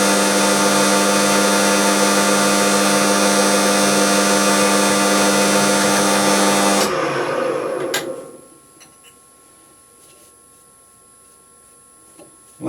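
A drill bit bores through metal on a stub arbor job, a loud steady whine with a dense tonal hum that cuts out abruptly partway through, leaving faint clicks and a quiet background before a final knock.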